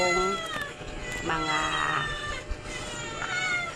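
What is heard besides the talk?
cats meowing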